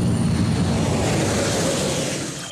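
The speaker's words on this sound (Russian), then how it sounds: "Стратегический самолет Ту-95 – долгожитель российских вооруженных сил." Engines of a Tu-95 strategic bomber give a loud, continuous droning roar that holds steady and fades slightly toward the end.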